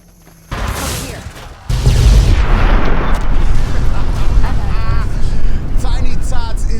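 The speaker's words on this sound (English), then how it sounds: "Imagine a shotgun spraying nuke." Nuclear shotgun blasts erupt in Fallout New Vegas from the Esther launcher, firing several mini-nukes at once, a loud roaring barrage of booms and rumbling that keeps going, with a voice talking over it.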